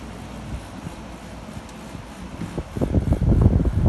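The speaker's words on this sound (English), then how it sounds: "it's going to put this on a low cool so you get to hear it start up" A 1970 Emerson Quiet Kool 7,500 BTU window air conditioner on low cool hums low, then its motor kicks on partway through with a rough, rumbling whir that grows louder and steadier.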